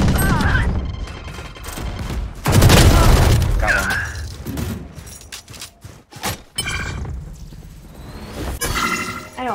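A grenade blast in the tactical shooter Valorant erupts as a loud, dense burst of noise, with scattered gunfire and game sounds around it and brief voice chatter during the fight.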